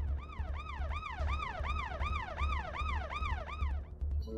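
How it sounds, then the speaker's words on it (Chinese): A piercing ambulance siren wails in quick, regular rising-and-falling sweeps, about nine cycles, loud and close over a low rumbling engine, before cutting off at the end. "直到刺耳的警笛声在耳边响起"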